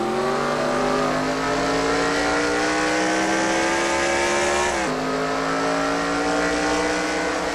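Loud, continuous roar of NASCAR Nationwide Series stock car engines in a racing video game, harmonics climbing steadily, then a sudden pitch drop near the end.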